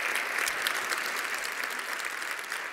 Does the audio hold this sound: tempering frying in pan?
no